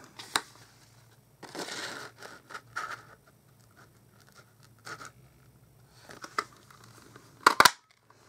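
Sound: circle punch cutting out paper circles

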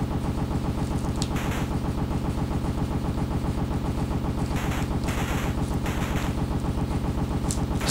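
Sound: gunfire in The Punisher NES video game

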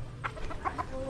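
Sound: chickens clucking

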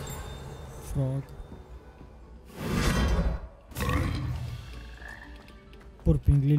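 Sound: frog croaking in Hogwarts Legacy video game

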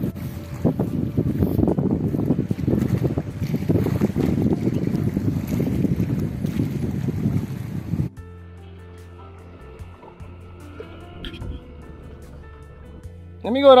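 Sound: small fishing boat passing

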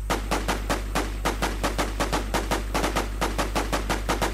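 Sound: gunfire in a video game

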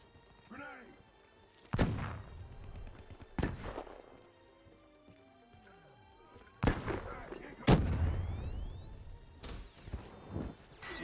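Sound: grenade explosion and gunfire in video game Black Ops 3

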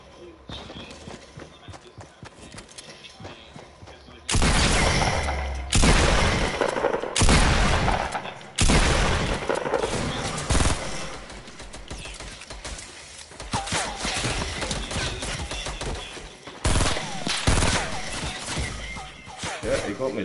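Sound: gunfire in the video game Fortnite

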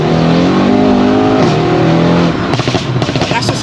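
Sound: Mercedes E63S engine revving at half throttle

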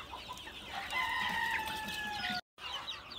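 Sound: chickens clucking in a coop on perches

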